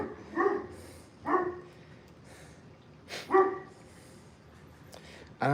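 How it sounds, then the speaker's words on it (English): A dog barks in a room, three spaced single woofs at moderate volume, fairly near, with a quiet pause between them and no talk in between. "There goes my dog."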